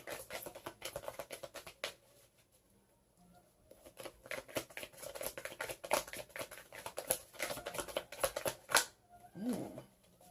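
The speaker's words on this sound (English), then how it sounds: "I don't shuffle as good when I have my nails this long." A deck of tarot cards is shuffled by hand in quick papery riffles and flicks, in bursts separated by short pauses, close and fairly quiet.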